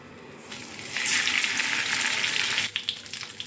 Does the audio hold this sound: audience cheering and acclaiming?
no